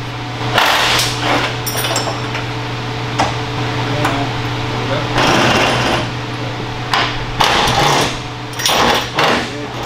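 Bolts are worked loose on a Land Cruiser restmod chassis, with sharp metallic hammer blows and bursts of rapid tool rattling repeating over a steady low hum in a workshop.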